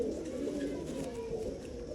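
A pigeon coos close by in low, rolling, throaty murmurs that run continuously without pause, with no speech over them.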